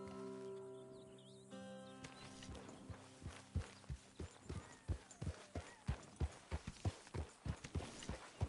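Steady horse hooves clip-clopping at a walking pace in the video game Red Dead Redemption 2, growing clearer and more regular after a brief stretch of faint birdsong and a low drone.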